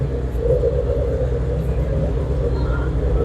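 Cars, including a Corvette C8 and an Audi RS5, drive around at a speed festival, heard as a continuous low engine rumble nearby, with someone talking faintly over it.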